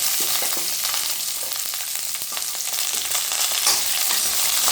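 Peeled whole onions frying in a pan, a loud continuous sizzle with scattered crackles and pops and occasional stirring scrapes, heard alone without talk.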